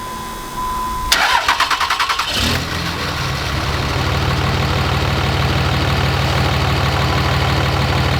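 A 5.9 Cummins diesel truck engine with 210,083 miles, on a freezing day, cranks in a rapid rhythmic chug for about a second, then catches and settles into a loud, steady idle close by.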